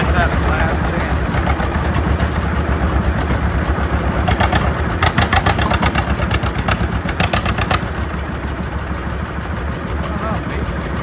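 A tractor engine rumbles continuously during a deadweight pull, loud and close, with rapid rattling bursts midway.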